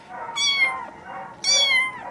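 A cat at an animal shelter meows twice, loud and close, each call a drawn-out rising-then-falling cry with a short pause between, and nothing else around it.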